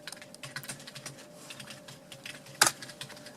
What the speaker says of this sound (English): what I'm going to type is Iceman